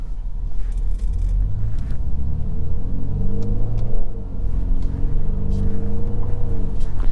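Interior engine sound of a 2023 BMW 530e RWD plug-in hybrid accelerating, a loud steady drone rising and falling in pitch as it pulls through the gears, heard from inside the cabin.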